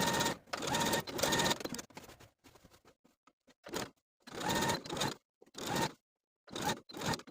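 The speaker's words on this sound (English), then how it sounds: "you're going to stitch the seam allowance from the notch, back stitching to secure, to the top of the facing" A sewing machine stitches the seam allowance of a linen jacket, backstitching to secure, running in several loud bursts of rapid stitching separated by short pauses and quiet handling.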